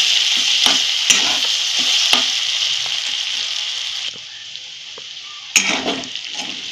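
Potatoes for sabudana khichdi sizzle steadily in a hot pan while a utensil scrapes and stirs them in several sharp strokes, close and fairly loud with no talking.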